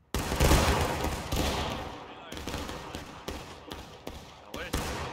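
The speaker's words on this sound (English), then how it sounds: "All I heard was you see the flag and then everyone fired." A company volley of musket fire in the Civil War video game War of Rights opens with a loud ragged burst, then dozens of overlapping shots crackle near and far in uneven clusters, with voices underneath.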